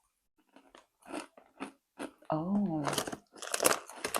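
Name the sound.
crunchy ALDI snack being bitten and chewed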